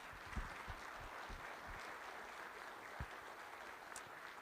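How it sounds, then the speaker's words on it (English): Faint, distant audience applause at a school board candidate forum: a steady, soft patter of clapping hands that holds for the whole stretch, with a few louder claps now and then. "So let's give them a round of applause."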